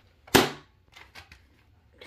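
A single sharp, loud crack from a toy gun, followed by a few fainter clicks and rustles in a quiet room.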